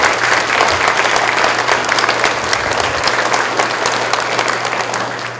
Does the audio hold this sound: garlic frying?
no